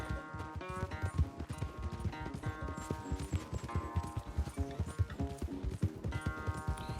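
Horses galloping in a race in Red Dead Redemption 2, rapid rhythmic hoofbeats thudding continuously under game music and ambient sound.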